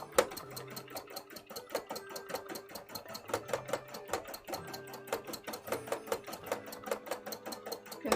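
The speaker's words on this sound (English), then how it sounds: "and get this bit all sewn up." Sewing machine stitching cosplay fabric, running steadily close up with a rapid, even mechanical chatter that briefly slows and picks back up around seams, with no voices over it.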